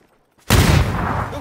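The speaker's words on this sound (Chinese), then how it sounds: "一标，一标这边有枪声。" Gunfire erupts suddenly from near silence in a third-person shooter match, a loud burst of shots that rolls into a dense, sustained rattle of reverberating fire.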